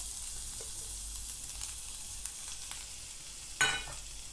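Ginger garlic paste and curry leaves sautéing in a pan over a medium flame, a steady faint sizzle with a few light stirring scrapes and one sharper clack of a utensil near the end.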